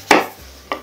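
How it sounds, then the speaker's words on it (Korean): Two crisp knife chops through potato and onion onto a cutting board, close and distinct with a short pause between them. "그야말로 큼직큼직하게 썰어주세요"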